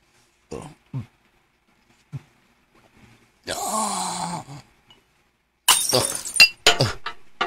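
A drinking glass falls and shatters: a bright crash with scattering fragments, then more clinks and breaking shards, close and loud, with a few scattered knocks and a groaning voice in between.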